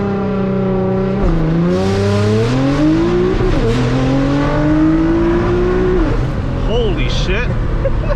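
A 600 WHP Nissan GT-R launches hard on launch control, its engine loud and close, surging through rising revs with brief shift dips, while occupants talk over the roar.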